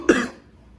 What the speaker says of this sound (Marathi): थंडीने खोकला वाढतो.